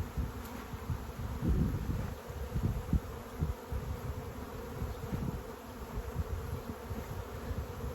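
Honeybees buzz continuously in a low, droning hum, steady and close, with no voices.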